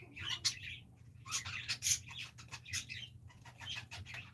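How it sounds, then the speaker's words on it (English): Two pet birds perched on a person's head give bright, busy chirps and tweets in close succession, with some fluttering wing sounds and a low steady hum underneath. "There are 2 birds on Manny."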